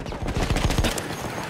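Rapid burst of machine gun fire in a World War 1 video game set on the Italian front, a quick run of sharp, loud shots over roughly a second that then trail into a lingering rumble.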